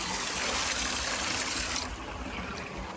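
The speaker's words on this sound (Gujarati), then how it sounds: "આપણે પાણી ચાલુ કરી નાખ્યું છે કમ્પ્લીટમાં" Water gushing and trickling steadily after the household supply is switched on, a broad continuous rush that drops to a quieter flow partway through, with no voices.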